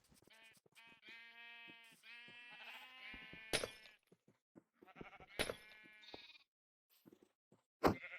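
Sheep in Minecraft bleat repeatedly in a series of harmonic, wavering calls, loud and close, with short gaps between them and a few sharp clicks from game actions.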